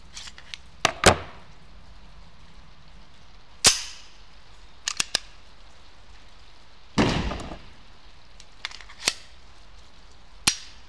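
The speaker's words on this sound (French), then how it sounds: "Donc, tir du deuxième chargeur." Old ammunition fired from a second magazine, heard as sharp isolated gunshots at irregular intervals, some crisp and others longer and rumbling, outdoors with a quiet background.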